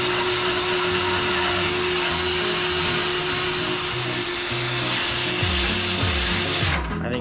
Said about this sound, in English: we're going to see if we can clean that up with this wire wheel